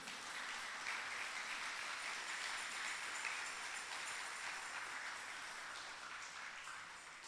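A church congregation claps during a Spanish-language sermon, a steady dense wash of applause from many hands that holds for about seven seconds and then eases slightly, with no talking over it.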